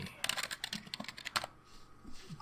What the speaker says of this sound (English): Can I even start typing here?